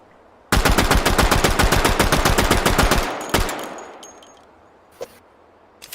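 Rapid automatic gunfire erupts in a video game, a loud, steady burst of about twenty-five shots over a few seconds, then a heavy final shot and a decaying tail, followed by one isolated thud.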